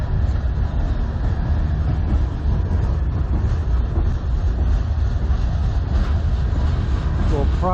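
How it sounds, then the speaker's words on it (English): A CN manifest freight train, led by locomotives CN 3044 and CN 3190, passes in Sarnia, Ontario. It makes a continuous heavy rumble and rolling rail noise that holds steady throughout. "This is usually a pretty long train."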